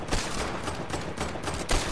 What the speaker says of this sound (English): He's shooting me down, he's shooting me down.